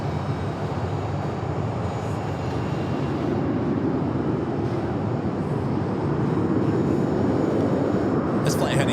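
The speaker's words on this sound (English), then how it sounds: "American Airlines flight 1922. It's a 12-year-old 737-800." A 12-year-old American Airlines Boeing 737-800 jet, flight 1922 bound for JFK, at Phoenix Sky Harbor airport gives a constant broad roar of engine noise that holds steady throughout and swells slightly at the end.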